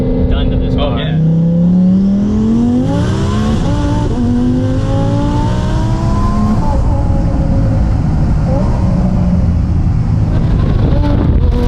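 Tuned 1400 hp all-wheel-drive Lamborghini Huracan STO accelerating hard on a quarter-mile drag run, its engine roaring loud and close from inside the cabin with quick rising pitch sweeps at each rapid paddle shift, and voices talking underneath.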